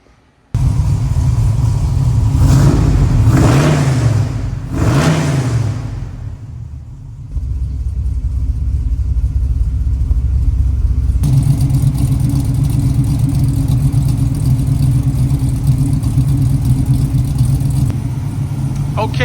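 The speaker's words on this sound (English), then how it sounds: "Let's fire it up." A 1970 Chevrolet Nova with a 454 V8 and four-speed cranks and fires, then blips through three loud rising revs before settling into a deep, steady, lumpy idle close by.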